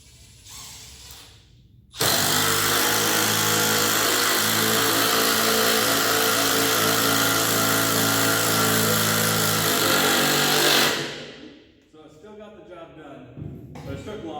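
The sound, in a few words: small power drill driving a screw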